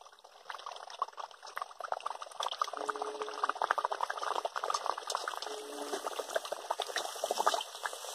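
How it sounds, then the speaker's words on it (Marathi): Puris frying in hot oil in a home kitchen, a steady crackling, bubbling sizzle with fine popping that continues evenly throughout at a moderate level. "आता मी पुऱ्या तळायला सुरुवात करते।"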